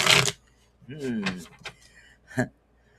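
Playing cards are shuffled in a quick, crisp riffle burst at the start. Softer handling and clicks follow, along with brief voice-like murmurs.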